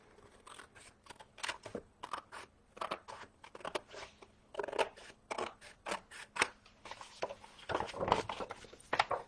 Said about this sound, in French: j'ai un petit pli en trop que je vais couper